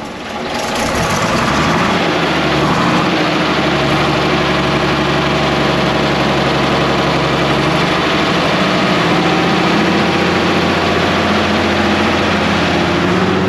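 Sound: Bristol VR double-decker bus engine running

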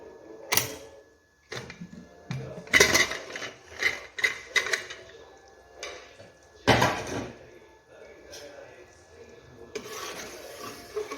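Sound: opening a pressure cooker after the whistles

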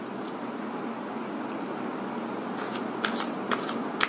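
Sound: tarot cards being shuffled and drawn

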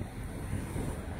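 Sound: strong wind

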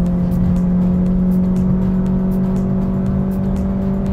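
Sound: Ford Fusion Hybrid 2020 accelerating

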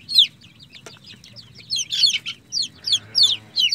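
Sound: chicks and hen clucking in a coop

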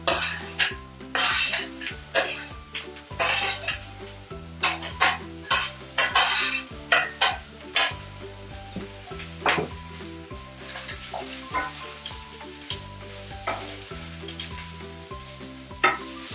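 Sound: paneer sautéing in a pan, stirred

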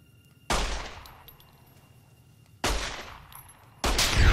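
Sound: gunfire in video game Fallout: New Vegas

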